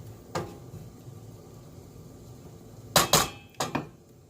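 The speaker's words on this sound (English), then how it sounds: "We'll be able to scrape the pan." A utensil scrapes and clanks against a pan of garlic cream sauce on the stove: one sharp knock, a quiet pause, then a quick cluster of four metallic scrapes, close and moderately loud, with no talking.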